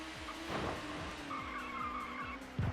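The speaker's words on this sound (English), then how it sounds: "Off goes the Peugeot." Tires squeal as a Peugeot touring car slides off the track at Oulton Park in the ToCA Touring Car Championship game, the skid whining over a droning race engine, with a sharp thump near the end.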